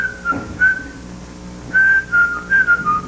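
A contestant on a 1950s television musical quiz show whistles a short tune, bright wavering phrases in bursts with brief pauses between them, loud and close with no talk over it.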